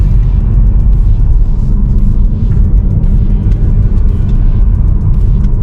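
Steady, loud low-frequency road rumble inside a 2022 Mitsubishi Outlander cruising on the highway, a continuous broadband drone with no talking in the cabin.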